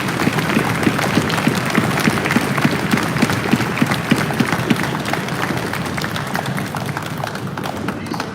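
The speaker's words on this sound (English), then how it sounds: "Give yourself a round of applause," Crowd applause at a religious gathering, with dense, steady clapping from many hands that stays loud throughout and fades slightly near the end, alongside faint background voices.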